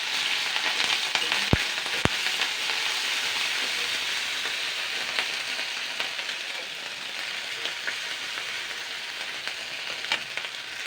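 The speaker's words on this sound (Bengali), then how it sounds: "এরপরে আমি আদা, রসুন, পেঁয়াজ বাটা দিয়ে দিচ্ছি, সবই অল্প অল্প করে" Ginger, garlic and onion paste hits hot oil in a wok, giving a dense, even, close sizzle that holds steady throughout, with faint occasional clicks and no talk.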